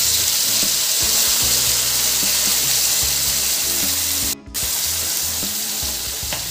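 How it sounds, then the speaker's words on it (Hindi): Spice paste frying in oil over a medium flame for a restaurant-style Paneer Afghani, after whole spices were toasted: a steady, close, dense sizzle with occasional stirring scrapes and one brief dip near the end. "इसको मीडियम फ्लेम पे हम अच्छे तरीके से भून लेते हैं"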